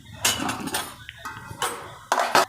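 A spoon scraping and clanking inside a metal pot while khaman batter is stirred to keep lumps from forming, in several short bursts separated by brief pauses, close and fairly loud.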